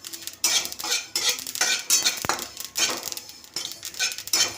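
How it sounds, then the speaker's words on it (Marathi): A spoon scrapes and clinks against a pan while stirring sesame seeds as they roast, in steady repeated strokes with faint crackling, close and moderately quiet, no voices. "तीळ छान भाजून घ्यायचं आहे, असं तळतळले पाहिजेत तीळ"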